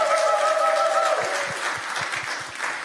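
A church congregation at a Sunday service claps briefly, a fairly loud spatter of applause that fades as a sustained tone dies away, followed by a few scattered thumps.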